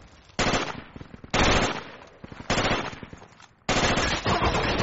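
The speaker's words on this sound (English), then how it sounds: "Let's shoot at these guys that are shooting at us." Automatic gunfire in the military shooter game Project Reality: four sustained bursts of rapid shots, loud and close, separated by brief quieter gaps with distant rattle.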